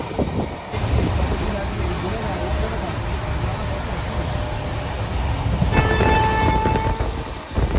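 A passenger train rounds a curve, heard from on board as a continuous loud rumble and clatter of wheels, with people talking over it and a brief high squeal near the end.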